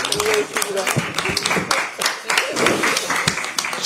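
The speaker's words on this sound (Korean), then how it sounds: "큰 박수 부탁드립니다" Party members at a political leadership meeting give a round of applause, scattered clapping mixed with talk and room noise, rising and falling in loose bursts.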